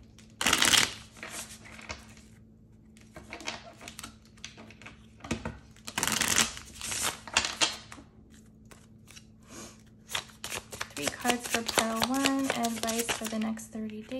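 Tarot cards being shuffled for a reading, with several bursts of riffling and brisk flicking, close and fairly loud, along with quieter handling of the deck.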